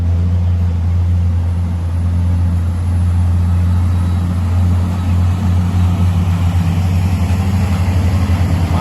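A car engine rumbles loudly and steadily nearby on a mountain road climb near Mae Sot, Tak, Thailand, its exhaust producing a deep continuous drone with slight revving swells.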